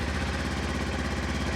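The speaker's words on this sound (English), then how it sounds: "This sounds like a twin cylinder motorcycle." A close, loud Kawasaki KLE500 twin-cylinder motorcycle engine idles with an even, rapid chugging pulse and a lumpy, throbbing rhythm, no voices present.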